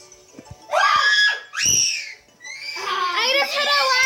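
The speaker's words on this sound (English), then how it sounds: "I just heard a lot of yells." Young voices yell and shriek in a game, several loud, drawn-out screams with short gaps, the last ones overlapping like a group crying out together, with a few light clicks between.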